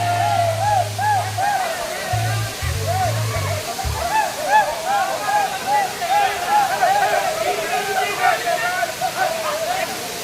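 Rampa Waterfalls pours with a continuous rushing roar close by, while people talk over the steady wash of falling water.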